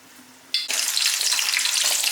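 Chicken chilly frying in hot oil in a pan, a sudden loud sizzle bursting in after a quiet moment and crackling steadily close by, with no talking.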